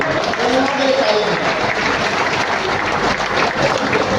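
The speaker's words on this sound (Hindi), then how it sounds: "ताली बजाओ इसके लिए।" Audience at an RCM nutrition training seminar applauds steadily, a thick, continuous patter of clapping with voices murmuring beneath it.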